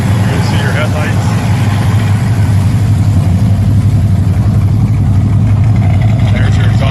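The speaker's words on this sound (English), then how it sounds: "There's your exhaust. It's got a nice sound to it." Muscle car with an L-Rock engine, aluminum heads and MSD ignition idling through its exhaust, a steady loud low rumble throughout with a voice talking over it.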